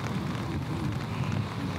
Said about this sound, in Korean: 고도가 높으니까 비가 아니고 우박이 떨어져요